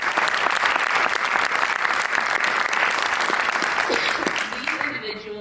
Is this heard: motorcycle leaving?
no